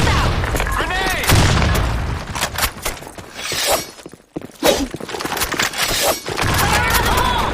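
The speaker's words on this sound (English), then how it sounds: "Fire in the hole! Gas out! Grenade." Chaotic Counter-Strike firefight with a grenade explosion, loud booming bursts mixed with gunfire and shattering crashes, radio voice callouts heard over the din.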